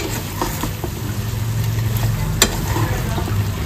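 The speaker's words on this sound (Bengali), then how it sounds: "দিয়ে দিয়েছি বলগুলো, এবারে ভালো করে মিক্স করে নেব।" Fried egg balls for Egg 65 are tossed and stirred in a dry pan. A continuous sizzle runs under soft scraping and clinking of the spoon, with one brief sharp click.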